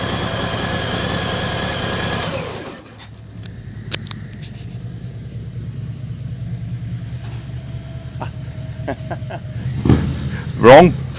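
A Harley-Davidson M8 Heritage motorcycle engine idles with a steady, rumbling tone for about two and a half seconds, then cuts off, leaving a low background hum and a few faint clicks and knocks.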